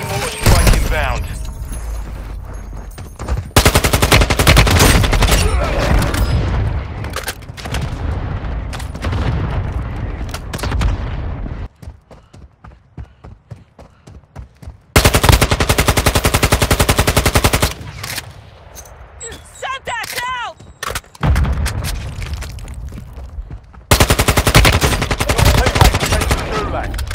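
Mortar strike and gunfire in the mobile video game Warzone Mobile, loud bursts of rapid automatic fire and booming blasts in stretches, broken by quieter gaps with mechanical game sounds.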